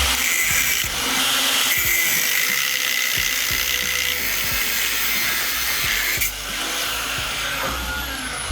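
An angle grinder fitted with a curved 0.035-inch cutoff wheel slices through half-inch steel round bar, giving a loud, continuous, harsh grinding whine that holds steady for about eight seconds with no talking.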